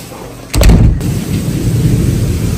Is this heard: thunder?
yes